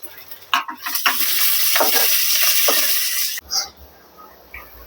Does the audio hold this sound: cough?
no